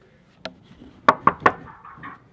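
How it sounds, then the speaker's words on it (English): A few sharp knocks on a wooden door: one single rap, then three quick raps in a row, close and distinct against near silence. "I heard the knock through the door"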